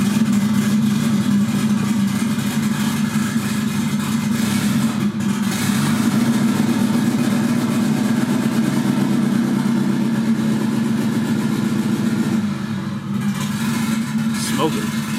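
A turbocharged Honda Civic fitted with GM LS injectors running rich, a loud steady idle with a strong low hum throughout and a slight dip in its note near the end, a voice talking over it.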